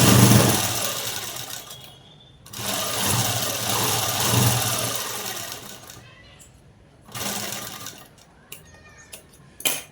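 Sewing machine stitching a net cloth blouse, its motor whirring in bursts that start and stop, with quiet pauses between the runs.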